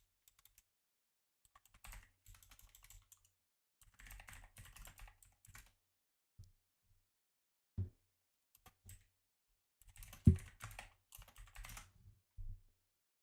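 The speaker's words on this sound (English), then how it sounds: "Sorry if the keyboard noises are annoying." Bursts of computer keyboard typing, quick irregular key clicks in clusters separated by short pauses, fairly close and soft, with a few louder key strikes.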